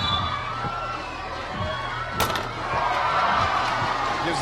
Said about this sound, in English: You can hear the crowd going crazy.